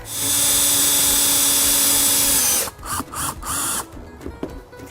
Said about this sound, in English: So we just need to put a few more screws in there.